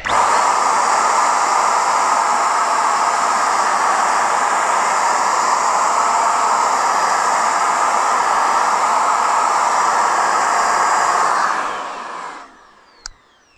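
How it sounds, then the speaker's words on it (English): A Tacklife SGP18AC 500W electric paint sprayer runs at its narrowest spray setting, making a loud, close, steady airy roar that holds for about eleven seconds before winding down, followed by a single sharp click. "So that is the narrowest setting of the sprayer."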